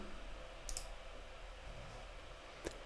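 A couple of faint computer mouse clicks, one around the first second and another near the end, over a quiet room hum.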